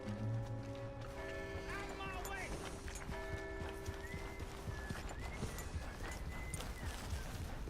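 Steady clip-clop of horse hooves in Red Dead Redemption 2 plods along quietly, with a soft whinny early on and a low ambient hum.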